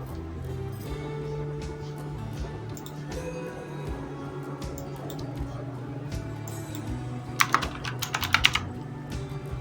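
Typing on a computer keyboard during a Cinema 4D and Photoshop design session: soft key taps run through the clip under a low hum, ending in a faster burst of louder, crisper clicks near the end.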